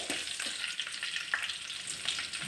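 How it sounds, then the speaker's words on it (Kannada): Urad dal and curry leaves sizzle in hot oil for a tempering for mango saaru, with a steady crackling fry broken by the scrape of a spoon stirring the pan. "ಸ್ವಲ್ಪ ಇವಾಗ ಉದ್ದಿನಬೇಳೆ ಹಾಕೋತಾ ಇದ್ದೀನಿ. ಇವಾಗ ಕರಿಬೇವು, ಎಲ್ಲವನ್ನು ಚೆನ್ನಾಗಿ ಮಿಕ್ಸ್ ಮಾಡ್ಕೊಳ್ಳಿ."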